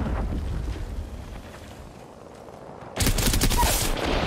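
Video game combat: a steady roar of gunfire and rumble gives way to a sudden loud, sustained grenade-explosion burst near the end, all dense and close.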